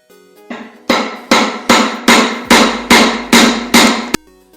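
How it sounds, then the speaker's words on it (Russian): Eight sharp, loud hammer blows ring out at an even rhythm, knocking the drum pulley off a washing machine with a sealed, non-separable tub, each strike decaying briefly before the next. "Берем просто молоточек."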